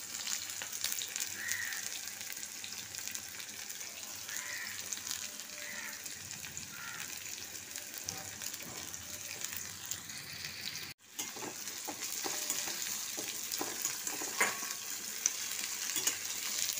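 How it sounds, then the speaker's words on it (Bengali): Onion sizzles and crackles steadily in hot oil in a wok, a dense, continuous frying hiss with small pops, with a brief gap near the middle before the sizzling resumes. "প্রথমে আমি পেঁয়াজটা ভেজে নেব।"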